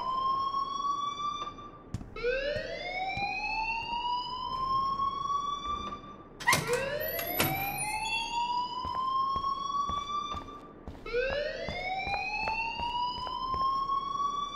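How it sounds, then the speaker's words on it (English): A school alarm in the game Life Is Strange wails in loud rising electronic sweeps, each tone climbing and repeating every few seconds with a sharp burst in the middle of the cycle. "please turn off that alarm"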